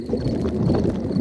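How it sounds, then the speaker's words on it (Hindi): A cartoon father pig's stomach rumbles in an animated children's show, giving a low, continuous, grumbling gurgle that fills the moment steadily without any speech. "ये डैडी के पेट की आवाज है।"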